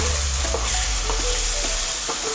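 Gravy for matar paneer sizzles and fries loudly in a pan while being stirred, a constant close crackle with a few soft scraping strokes and no voice.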